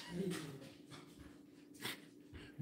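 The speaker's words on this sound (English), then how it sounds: "Dog's ready to go outside." A dog wanting to go outside whimpers and snorts close by in a quiet room, in short breathy bursts that come and go over a faint background.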